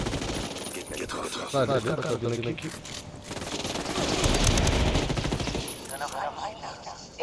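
Video game gunfire crackles in rapid automatic bursts and single shots, loud and close, while a player talks over the action.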